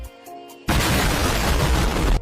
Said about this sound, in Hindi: लेकिन हेलमेट में ही पटाखा था।